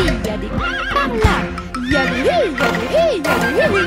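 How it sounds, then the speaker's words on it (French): Horses neigh in a French children's farm song about Mathurin's farm: a series of loud, wavering whinnies repeat in quick succession with a bright, rising-and-falling pitch. "Il y a des centaines de chevaux"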